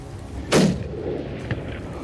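A single sharp hunting rifle shot fired at a mountain reedbuck in the Eastern Cape Winterberg mountains, a loud crack followed by a rolling outdoor echo that fades, with a faint second thump about a second later.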